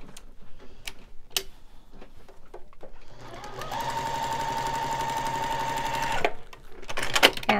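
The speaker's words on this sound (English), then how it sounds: "We'll put the sewing machine foot right next to that drawn line." A sewing machine stitches fabric along a pencil line for a quilt block, a steady fast whirring run of about three seconds after a few soft clicks and taps.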